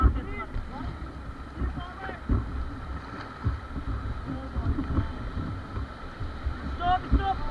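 Paddles splashing and churning water as a river raft moves down the Ganges at Rishikesh, with wind buffeting the microphone and a guide calling out commands over the steady rushing water.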